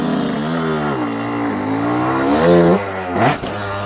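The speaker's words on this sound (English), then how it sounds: "fire my bike up, and I'm gonna go off this in second" A dirt bike engine revs hard as the bike rides off a deck in second gear, its note climbing through sharp, rising throttle bursts close by, loud and alone.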